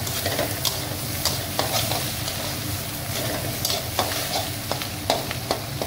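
Egg frying in a pan for noodles sizzles steadily and up close, while a utensil scrapes and taps the pan in an irregular stirring rhythm.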